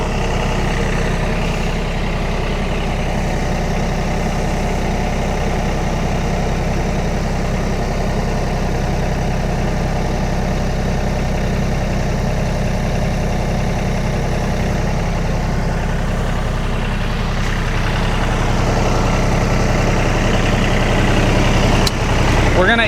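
A vehicle engine idles in low gear on a farm during pig butchering, a loud, steady low rumble held for over twenty seconds with little change, close by.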